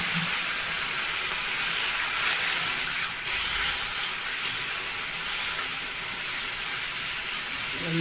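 Water is added to a pan of frying spiced potato curry (aloo dum) with ginger and garlic masala, raising a steady, bright hiss of sizzling steam that runs evenly for several seconds with no voices.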